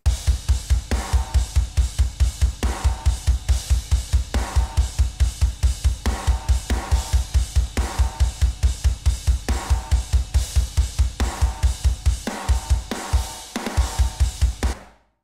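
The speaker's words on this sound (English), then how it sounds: "here are the drums on their own" A full drum kit plays a steady, driving beat with punchy kick and a snare that rings out on each hit, loud and close with no voices.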